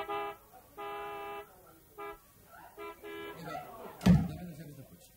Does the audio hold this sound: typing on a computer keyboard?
no